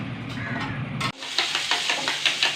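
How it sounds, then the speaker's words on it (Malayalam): An egg hits a hot pan and starts frying, with a brief steady hiss followed by a brighter crackling sizzle that pulses on and off, close by. "മുട്ട പൊരിച്ചെടുക്കട്ടെ കേട്ടോ."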